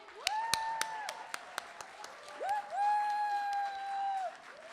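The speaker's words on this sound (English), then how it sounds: "can we give another round of applause for our feature tonight?" At an evening community gathering, scattered sharp handclaps ring out while sustained, tonal whooping voices rise and hold, cheering for the featured performer in a lively but thinly populated burst.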